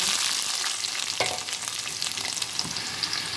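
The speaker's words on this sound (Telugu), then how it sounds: "ఉల్లిపాయలు వేసేసుకుంటాను." Onions frying in oil in a pan, a loud, close, continuous sizzle with occasional scraping stirs, and no one speaking.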